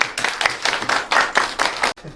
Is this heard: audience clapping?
yes